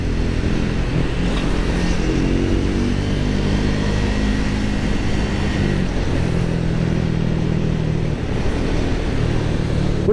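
A Triumph Speed 400 motorcycle engine runs steadily with a smooth, calm, low rumbling drone and light mechanical clatter, loud and close throughout without revving.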